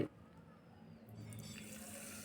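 Water pours steadily into a container to soak onion peels and other plant-fertiliser ingredients, a soft, continuous close splashing stream that grows slightly fuller midway.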